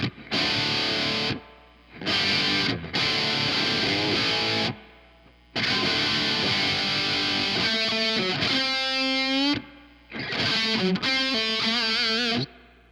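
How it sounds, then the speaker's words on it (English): Electric guitar played through a preamp with spring reverb set halfway, distorted chords and single-note bends in bursts separated by short gaps, loud and close with a light reverb tail. "There is kind of like a spring reverb going on in there. Let's see reverb halfway through."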